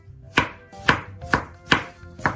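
Kitchen knife chopping through a bok choy core on a cutting board: five crisp, evenly spaced chops about half a second apart, close and clear with no talking.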